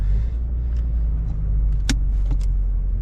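A 1990 Ford Probe GT drives along a road, its steady low engine rumble and road noise constant throughout, with a couple of brief higher clicks or rattles from inside the cabin.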